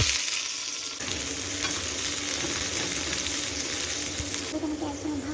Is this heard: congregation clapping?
no